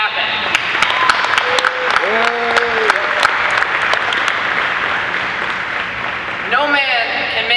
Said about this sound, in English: let's give a big round of applause for everybody who made this event happen